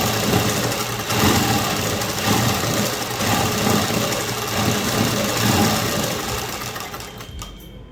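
A sewing machine runs a top stitch seam as a continuous, loud, close whirring hum that holds steady for several seconds, then winds down at the end. Nobody speaks.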